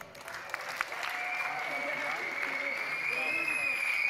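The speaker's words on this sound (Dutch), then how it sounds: "Applaus." Steady applause from a crowd at a youth sports awards ceremony, continuous and fairly loud throughout, with a few sharper claps standing out near the start.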